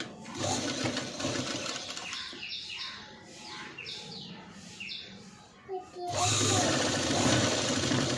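A sewing machine stitches a padded blouse in two loud, steady runs at the start and end, with a quieter stretch in the middle filled with short squeaky chirps.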